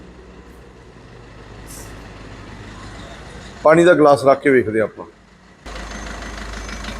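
A car engine idles steadily just after a cold start, a low continuous hum that runs under a short stretch of speech and grows louder near the end.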